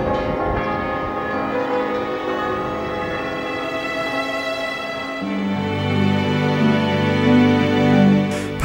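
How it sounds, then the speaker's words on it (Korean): Church bells on Gozo island, Malta, ring out loud and close in overlapping, sustained peals that carry across the island, the tones shifting to a lower, fuller toll partway through, with no voices. "메아리 치듯 섬 전체로 천천히 퍼져나가는 종소리는 아름다운 풍경과"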